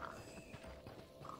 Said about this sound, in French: Et on a un cheval ici. C'est rare les chevaux.